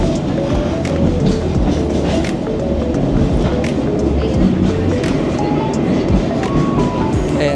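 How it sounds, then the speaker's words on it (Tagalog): Romantic sightseeing train rolling through the Kyoto bamboo area, with steady loud rumbling and rail noise throughout, and voices chattering underneath. "isakay ko kayo dito sa romantic train"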